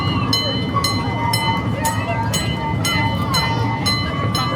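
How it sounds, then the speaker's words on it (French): A small amusement park train runs at Centreville on the Toronto Islands, with a continuous rolling rumble and regular sharp clacks or squeaks recurring about twice a second, as people talk nearby. "Des petits trains, mon amour."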